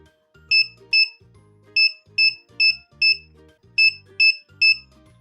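A DIY infrared alarm kit built on a breadboard sounds its buzzer as an object comes near, giving eight short, loud, shrill beeps in irregular pairs and singles over a low background hum.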